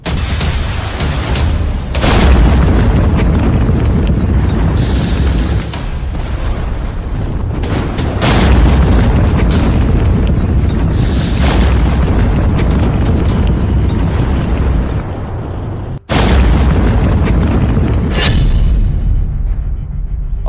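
A series of deep, heavy booms from a drone explosion over Abu Dhabi rolls through a loud, rumbling roar, with a few sharp blasts standing out against constant low thunder.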